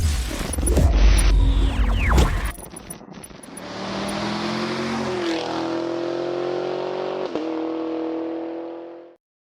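A 2022 Buick Enclave drives on the road. Its engine hum rises through revs, with a loud rushing burst at first and a steady drone near the end.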